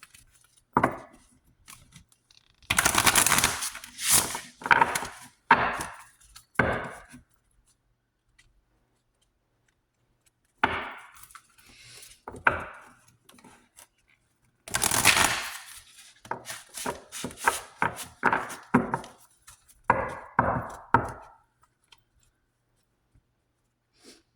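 Tarot cards are shuffled in bursts of crisp riffling and soft flicking, separated by quiet pauses, close to the microphone with no talking over them.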